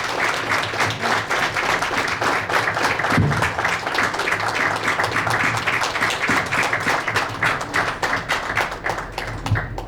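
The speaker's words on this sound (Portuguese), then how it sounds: "uma salva de palmas" An audience at a building-trade council meeting in Campinas breaks into loud, sustained applause, thick overlapping clapping that holds steady for ten seconds with a few sharper nearby claps.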